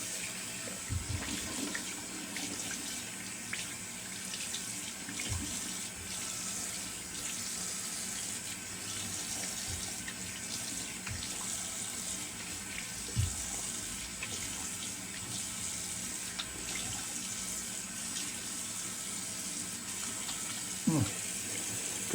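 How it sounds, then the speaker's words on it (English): Cold water runs from a tap into a sink in a continuous close hiss for a long stretch, with a few brief clinks and splashes now and then. "All right, some cold water, some cold agua."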